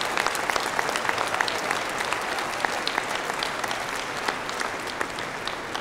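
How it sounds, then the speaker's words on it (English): Audience applause in a large conference hall, a continuous, full wash of clapping from many hands at a steady level throughout. "Let's give them all a round of applause."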